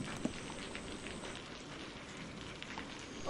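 Heavy rain pours in a cartoon storm scene, a steady soft patter and hiss of drops on surfaces running throughout with a few sharper splashes and no talk.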